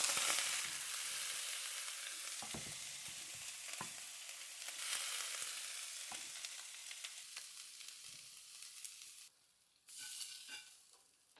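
Philly cheese steak filling sizzles steadily in a hot pan while a utensil scrapes and stirs it in irregular strokes, loud and close, the hiss dropping briefly near the end.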